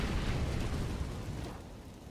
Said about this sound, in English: A lot of grenades towards B